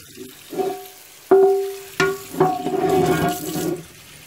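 Tap water runs over a cast iron pan in a sink for rinsing, arriving in a few separate splashing bursts with short gaps between them, close and fairly loud.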